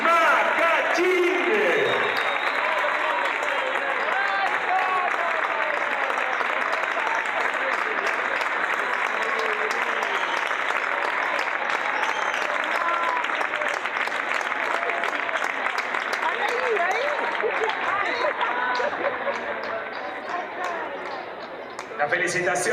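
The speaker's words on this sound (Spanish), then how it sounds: "un aplauso" A conference audience breaks into sustained applause, a dense wash of clapping that lasts about twenty seconds before fading out. A few voices and some chatter are mixed in at the start and end.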